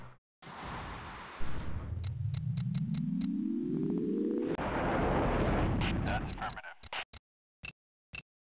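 Heavy rockets strike a ship in the space game Escape Velocity Classic, giving a loud, sustained rumbling blast with a rising whoosh, then a string of sharp short impacts and clicks toward the end, with no talking.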